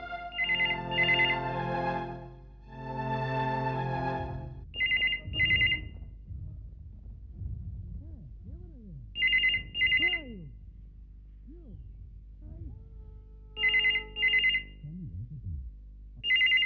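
A telephone rings in short repeated double bursts at regular intervals. Softer gliding, music-like tones fill the gaps between rings.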